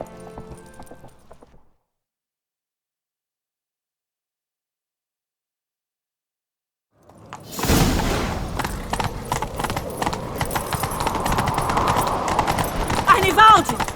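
A horse gallops in The Witcher 3: Wild Hunt. Rapid, rhythmic hoofbeats rise in after a stretch of silence and continue loud and close, mixed with game effects and voices speaking over them.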